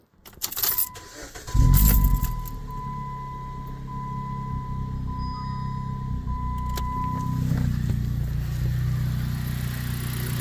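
A 2014-2017 Jeep Patriot engine cranks and catches after a jangle of keys and a chime, then settles into a steady, close idle.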